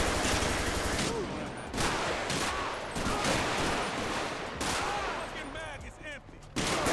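Gunfire in GTA 5 during a police gang-unit patrol mod: sustained bursts of rapid shots and volleys, fairly steady in level with brief dips, overlapping faint voices.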